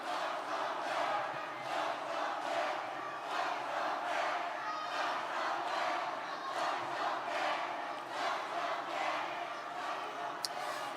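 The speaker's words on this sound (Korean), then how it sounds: "뜨거운 박수로 맞아주시기 바랍니다." Large crowd at a party convention cheering and applauding in a dense, continuous roar with rhythmic swells, steady and loud throughout.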